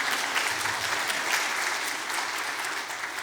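Audience applause fills a church during a revival service, steady dense clapping throughout without a break, fairly close and loud, with no speech over it.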